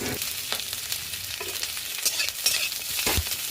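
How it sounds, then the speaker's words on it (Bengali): Chopped onion frying in mustard oil in a kadai, with small shrimp to follow. A continuous, close sizzle is broken by repeated scraping and stirring clicks from a spatula. "ওই কড়ার মধ্যে একটু সরষের তেল দিয়ে পেঁয়াজ কুচি আর কুচো চিংড়ি মাছগুলো ওগুলো একটু দিয়ে দেবো"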